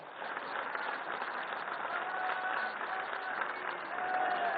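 An audience at a felicitation ceremony gives dense, continuous applause, steady and fairly loud throughout the short stretch, with no speech over it.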